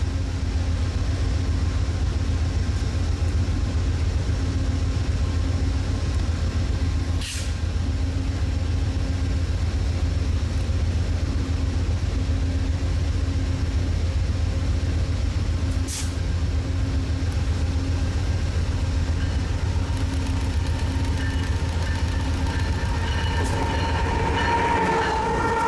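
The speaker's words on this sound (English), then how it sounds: "I walked to the other side of Fullerton Station to get a shot of the train leaving" Amtrak's Southwest Chief pulling out of Fullerton Station: a continuous low rumble of rolling railcars with steady wheel noise, a few brief sharp clanks and squeals, and some higher hissing toward the end, heard from trackside.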